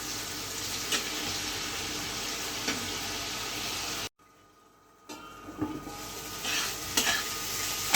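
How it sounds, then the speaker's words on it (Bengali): Potato sautés with turmeric, chili powder and garlic and onion paste in a pan, making a loud, steady sizzle with stirring scrapes that cuts out for about a second partway through. "দিয়ে এখন কষাবো।"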